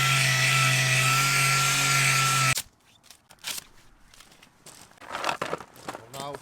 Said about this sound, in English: So now I've got it all sanded down, ready to paint.